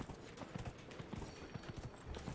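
Rapid, even clip-clopping of horse hooves in Dragon Age: Inquisition, a close, continuous galloping rhythm with game sounds beneath.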